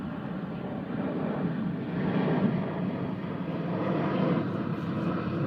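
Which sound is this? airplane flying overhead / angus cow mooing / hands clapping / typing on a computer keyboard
airplane flying overhead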